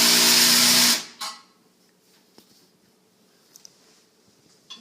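A power drill tightens a part during a toilet water-saver installation, one loud whirring burst of about a second that stops abruptly, followed by faint clicks and handling noises.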